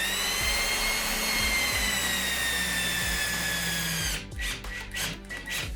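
A cordless drill drives drywall screws into studs, a close whining motor that slowly drops in pitch for about four seconds, then stops, followed by a few short bursts of spinning.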